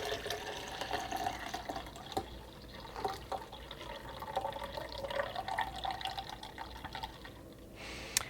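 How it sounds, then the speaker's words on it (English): Rejuvelac, a fermented grain liquid, pours through a strainer in a faint, steady trickle with scattered drips and splashes for several seconds, quiet and without voices. "I'm going to pour my Rejuvelac through the strainer"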